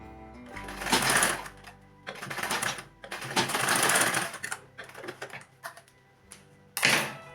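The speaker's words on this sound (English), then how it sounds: "you stitch with the 1/2 inch seam allowance." A sewing machine box-stitches the corners of a shoulder bag lining in several close, loud bursts with short pauses between them, and no voice is heard.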